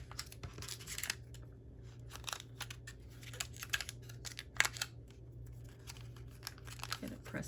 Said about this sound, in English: Now I'm going to tape it on all 4 sides.